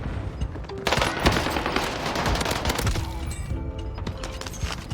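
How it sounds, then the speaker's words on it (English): Rapid bursts of assault rifle hip fire in a video game gunfight, loud and dense throughout with a brief lull at the start, then overlapping volleys of shots and impacts. "you can see that I hip fire first, even with an assault rifle"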